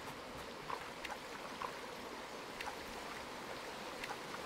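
A river flows in the survival game Among Trees, a steady soft rushing wash with faint drips and splashes, continuous and fairly quiet throughout.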